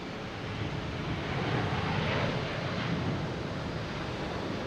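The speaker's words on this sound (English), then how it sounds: "American heading to Dallas Fort Worth, flight 255." American Airlines jet at Boston Logan International Airport, bound for Dallas Fort Worth, a steady broadband engine roar that swells gently and holds, heard alone without talk.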